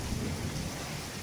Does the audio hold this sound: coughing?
no